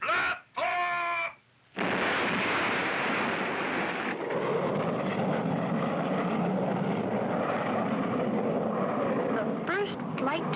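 Cartoon rocket blasting off for the moon in a 1959 animated adventure, a loud sustained roaring rumble of engine thrust that starts abruptly after brief tonal sounds and continues steadily to the end.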